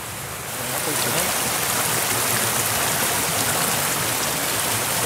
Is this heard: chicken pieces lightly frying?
no